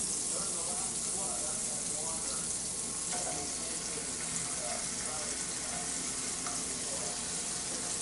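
Dove meat frying in a pan with a steady, broadband hiss and sizzle that runs without a break throughout, while a voice is heard faintly beneath it.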